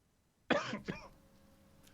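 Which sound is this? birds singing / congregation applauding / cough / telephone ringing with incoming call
cough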